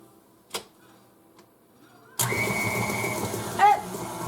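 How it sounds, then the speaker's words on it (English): An electric stand mixer starts up on cinnamon roll dough ingredients of flour, sugar and salt, kicking in with a steady whirring motor hum after a few quiet seconds and a faint tap, then a brief clatter near the end. "I'm just going to mix it in the mixer"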